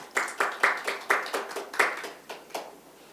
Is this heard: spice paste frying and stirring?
no